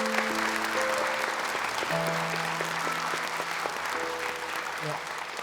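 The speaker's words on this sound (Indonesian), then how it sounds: "Boleh tepuk tangan untuk kedua peserta di awal kita ini" A studio audience at a televised Quran recitation competition claps for two young contestants, steady applause running throughout while a sustained musical tone plays underneath.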